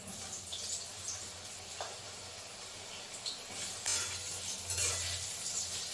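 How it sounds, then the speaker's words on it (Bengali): Eggplant fries in oil in a pan with a soft, steady sizzle, broken by a few light clinks of a utensil against the cookware. "আমি বেগুনটাকে একটু আলাদা করে ভেজে নিই।"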